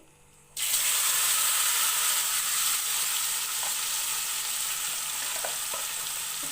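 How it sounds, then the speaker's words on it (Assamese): Marinated goat meat for an Assamese mutton curry drops into hot oil with a little sugar, setting off a sudden loud hiss that settles into a steady, close sizzle with occasional small pops. No one speaks. "আৰু এতিয়া মই মেৰিনেশ্যন কৰি থোৱা মাংসখিনি ইয়াতে এড কৰি দিম।"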